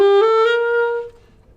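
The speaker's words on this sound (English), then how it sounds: "you'll start off with the alto sax." Alto saxophone sustains a single bright, reedy note for about a second, then cuts off into quiet.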